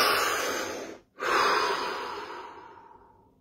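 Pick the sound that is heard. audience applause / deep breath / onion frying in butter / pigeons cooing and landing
deep breath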